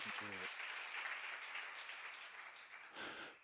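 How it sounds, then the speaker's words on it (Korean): A church congregation applauding during an Isaiah sermon: broad, sustained clapping from many hands fills the room, with a brief voice at the very start and a small surge near the end. "박수로 영광을 돌리시기 바랍니다"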